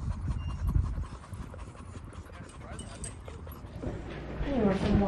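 Quick, breathy dog panting up close after a trip to the dog park, with a little whimpering, mixed with background noise and a person talking nearby.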